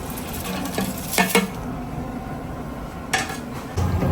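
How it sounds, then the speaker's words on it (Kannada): Onions fry with whole spices for a large batch of chicken biryani, a steady sizzle broken by a few loud clatters of a metal ladle scraping the big pot, with no speech. "ಇದೆಲ್ಲ ಹುರ್ಕೊಂಡ್ಮೇಲೆ ಈರುಳ್ಳಿ ಹಾಕ್ತೀವಿ"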